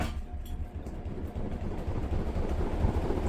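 A Hampton Bay Industrial ceiling fan fitted with Trice blades spins up, giving a low rumbling whoosh of moving air that swells and steadies, close and fairly loud with no speech.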